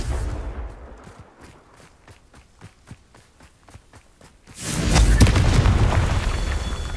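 A Confringo explosive curse blast in Hogwarts Legacy bursts out as a loud, sustained roar that swells suddenly and stays heavy to the end, after a run of quick rhythmic footstep-like taps.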